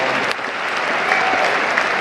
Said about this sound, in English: So give everybody a round of applause for that.